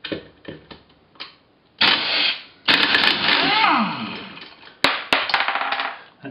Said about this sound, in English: Managed to get one of these off with the aid of the air wrench